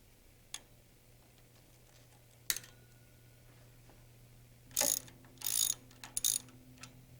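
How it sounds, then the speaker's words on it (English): A ratchet works 3/8-inch bolts loose from a Rotorway helicopter hub, sounding as a few isolated clicks followed by two short bursts of rapid ratcheting, close and otherwise quiet. "Cut the safety wire and remove the 3/8" bolts."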